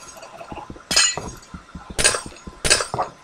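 Glass shatters in a blocky video game with creepers, three sharp breaking crashes spaced about a second apart, each with a bright ringing tinkle over soft background clicks.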